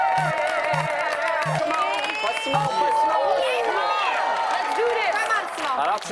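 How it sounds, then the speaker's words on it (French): Game show studio audience claps and cheers for a contestant, with whoops and excited voices rising over a jingle of tones at the start; a dense, lively crowd burst lasting several seconds. "On l'applaudit tout le monde."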